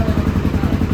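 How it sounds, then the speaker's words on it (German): A Suzuki motorcycle engine runs steadily after repair of engine damage in Laos, a dense, even low throb with light mechanical clatter, close and continuous for about a second. "Okay Leute, das Motorrad läuft."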